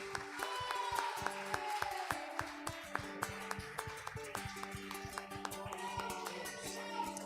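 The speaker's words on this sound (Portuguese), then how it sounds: "Aplauda Jesus." Scattered hand claps from a church congregation at the close of a prayer service, a steady patter of clapping running throughout over a sustained organ or keyboard chord, with moderate loudness and no dominant voice.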